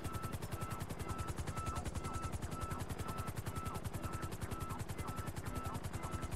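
A helicopter in GTA Online sets down on a helipad, its rotor beating in a fast, steady, loud chop, with the engine whine running underneath throughout.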